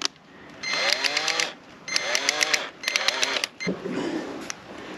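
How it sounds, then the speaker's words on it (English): A cordless power drill spins bare wires clamped in its chuck to twist them together while installing an invisible dog fence, whirring in three short bursts with rising pitch, close and loud. "I'm gonna take my drill and open up the chuck. Put these wires in there."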